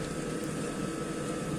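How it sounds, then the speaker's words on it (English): Hot water pours steadily into a pot of parboiled rice, a continuous close splashing rush with no pauses. "now we'll be adding the hot water to this"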